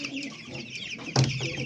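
Free-range chickens cluck softly and steadily while eating onions nearby, with a louder squawk near the end.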